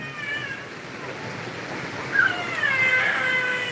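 A fussy child cries and whines in short wailing bursts over a background of steady rain, louder toward the end.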